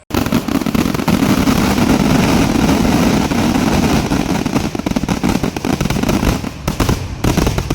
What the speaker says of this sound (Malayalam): അതിഗംഭീരമായ പുലർച്ചെ വെടിക്കെട്ടിൻ്റെ വീഡിയോ ആണിത്